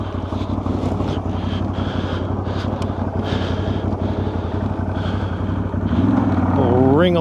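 A CFORCE 1000 ATV engine runs with a steady, loud drone that swells as it revs near the end, with wind buffeting and a voice speaking over it outdoors.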